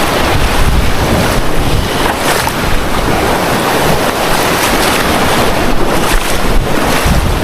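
Strong sea waves pound and wash against a small boat, a loud, continuous churning surge with heavy wind buffeting the microphone and no voices.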